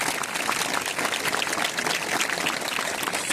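An audience claps steadily and loudly for visiting Heartfulness activity members at an institute, a dense, continuous wash of applause with no voices over it.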